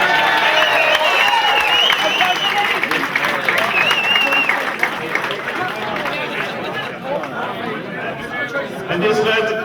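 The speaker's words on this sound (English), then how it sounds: "A big round of applause for Martin Condon, lads." A crowd of players and supporters celebrating a Munster intermediate hurling final win gives a round of applause, with cheering and chatter, while someone speaks loudly over the clapping.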